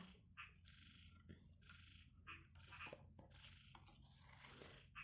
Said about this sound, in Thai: วันนี้อาจจะได้ยินเสียงกบเสียงเขียดร้องเด้อพี่น้องจ๋า